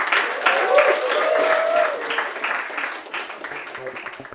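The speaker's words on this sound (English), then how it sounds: "let's have another round of applause for our fantastic acts" Comedy club audience applauding the acts at the close of a night, dense clapping that starts loud and thins toward the end, with a voice speaking over it.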